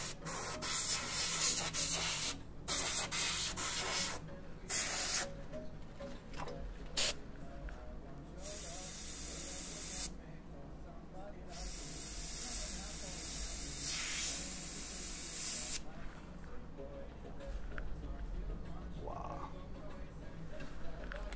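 An airbrush sprays paint onto a T-shirt for a Joker design, giving bursts of fine hissing spray that start and stop repeatedly, close and steady, with brief pauses between passes.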